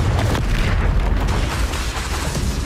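A Confringo blasting spell from the Hogwarts Legacy video game erupts in a loud, sustained explosive roar, dense low-end rumble filling the whole moment with no talk over it.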